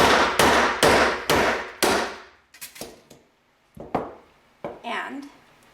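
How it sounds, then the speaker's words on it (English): A hammer strikes a metal washer in a quick series of sharp, ringing blows while making jewelry, then several more spaced taps follow, close and loud. "Going to come in, hammer this."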